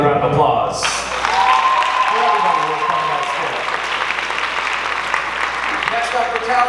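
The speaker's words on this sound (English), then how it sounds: "Give another round of applause." College talent show audience applauds at a Mr. Juniata pageant, a sustained crowd clapping with cheers that holds steady, while a voice speaks over the noise near the start.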